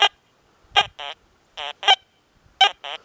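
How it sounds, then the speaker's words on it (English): A Deus 2 metal detector sounds on a nickel with silencer 1 and no notch. About seven short, sharp tonal beeps come mostly in pairs, clear and close, with silence between them. "So we hear that nickel with silencer 1 no notch, okay?"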